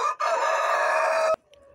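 A rooster crows once, loud and close, in a long sustained call that breaks off abruptly, followed by quieter clucking from the farm flock.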